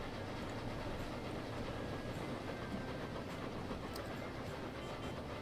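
Train arriving at Keynsham station in the video game Transport Fever 2, a steady rolling rumble with faint rhythmic clickety-clack of wheels, constant and moderately loud with no talking.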